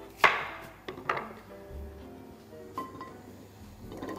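A knife chops through large raw potatoes on a cutting board in a home kitchen, a few sharp, close knocks spaced irregularly with quieter handling noise between.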